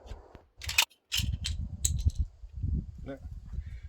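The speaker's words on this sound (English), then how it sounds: "Let's just drop the mag." A CZ pistol magazine dropping out, heard as a few sharp, close clicks and a clattering impact, with someone talking around them.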